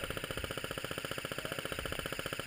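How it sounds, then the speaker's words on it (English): A battery-powered airsoft M249 SAW motor whirs in a faint, fast, evenly pulsing cycle that holds steady throughout. "you can hear the battery wind down"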